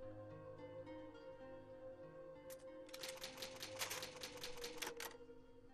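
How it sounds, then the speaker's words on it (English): Typewriter save in Resident Evil 2: a rapid run of sharp mechanical key clacks in a burst lasting a couple of seconds, loud and close over a steady low game backdrop, with no talking. "Go to the typewriter."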